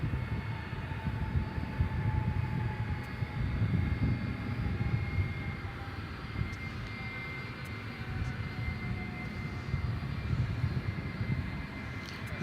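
UPS cargo Boeing 757 inbound from Houston Intercontinental, arriving at DFW Airport at night: a steady low engine rumble with faint tonal whine, sustained and moderately distant throughout.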